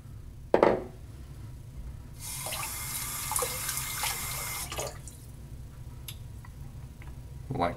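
A bathroom tap runs in a brief steady gush for a quick rinse at the sink during a straight razor shave, bracketed by small clicks and clatters, close and alone without talk.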